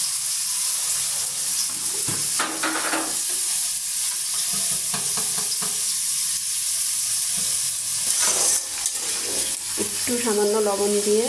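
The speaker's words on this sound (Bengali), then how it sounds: "আলুটা সামান্য একটু ভেজে নিচ্ছি।" Potatoes frying in hot oil: a loud, continuous sizzle with intermittent stirring knocks and scrapes, close up and without speech.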